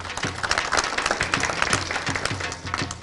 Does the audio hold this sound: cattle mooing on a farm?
no